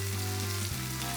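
Lamb chops fry in butter in a pan as side vegetables are added, giving a loud, dense, close sizzle that shifts slightly partway through.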